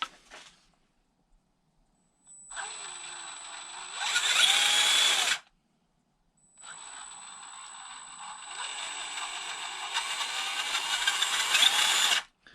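An RGT EX86100 RC crawler car's electric motor whines as it drives slowly, in two separate runs divided by brief silence. The whine rises as the throttle increases.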